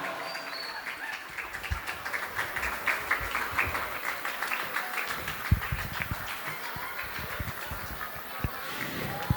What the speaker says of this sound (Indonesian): Beri tepuk tangan sekali yang meriah kepada mereka